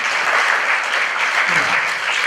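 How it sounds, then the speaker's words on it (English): An audience at a Music Choice event at Landry Walker applauds the CEO of a children's network, a brief, even wash of clapping. "Please give him a round of applause"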